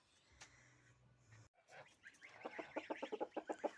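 Young geese on a village farmyard give a run of quick, rhythmic peeping calls that build in loudness toward the end, close by, after a quieter stretch of soft shuffling.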